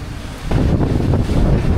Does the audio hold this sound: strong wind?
yes